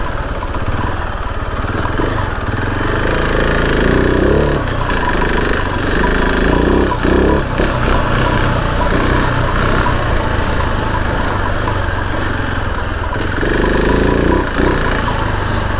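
A KTM 690 Enduro R single-cylinder motorcycle rides loud and close along tricky, boggy trails, its engine droning steadily for the whole stretch with slight rises and dips in throttle.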